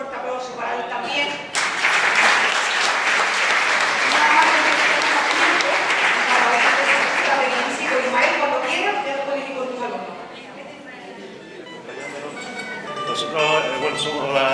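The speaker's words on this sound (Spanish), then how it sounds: "un fuerte aplauso para él también" An audience bursts into loud applause at a church carol concert, a dense sustained clapping that swells after a quiet opening, dips briefly and then picks up again, with voices murmuring through it.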